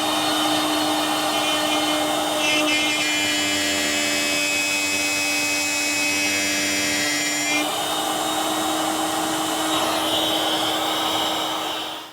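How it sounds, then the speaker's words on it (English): A router table fitted with a 1/4-inch spiral bit cuts into wood, a steady high whine with a heavier cutting tone in the middle stretch, loud and continuous with no talk. "1/4-inch spiral cutting bit in the router table, and I've put some indicator marks on the fence where I want to plunge in"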